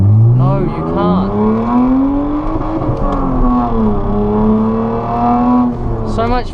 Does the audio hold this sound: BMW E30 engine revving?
yes